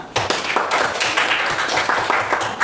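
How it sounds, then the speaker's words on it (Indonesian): Group hand clapping in a rhythmic pattern, close and crisp, as a class of children claps on cue for about three seconds. "Tepuk tangan."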